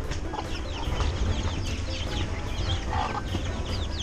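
Chickens, including older birds awaiting feed, clucking and chirping steadily in a busy coop, several close by over a constant low rumble, with occasional sharper calls.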